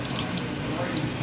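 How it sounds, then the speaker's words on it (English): Cold water runs from a sink tap in a steady, close splashing stream that stays even and unbroken from start to finish. "we want to take it over to the sink, put on some cold water,"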